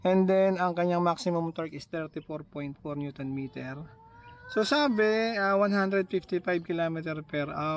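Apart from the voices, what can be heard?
No everyday noise stands out behind the speech.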